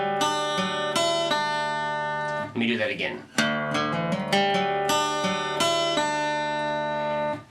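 Acoustic guitar in DADGAD tuning playing a short lead phrase over picked bass notes, each note ringing out clearly and close; the phrase stops briefly for a spoken line and then starts over.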